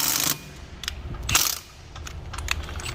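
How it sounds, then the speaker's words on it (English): A socket wrench with a 13/16 socket tightens a car wheel's lug nut, giving a few short ratcheting clicks and a brief burst of metallic clatter up close. "And we'll give it one more tighten here."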